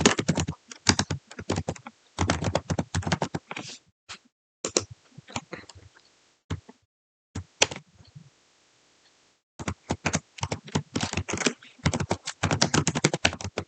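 Rapid typing on a computer keyboard clatters close and clear in bursts of quick keystrokes, broken by a couple of short pauses, with no talk.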